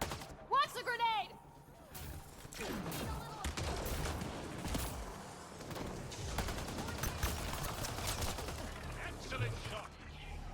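Rapid gunfire bursts and combat explosions from the video game Mass Effect: Andromeda crackle in dense volleys, with a grenade blast and voices calling out over the firefight.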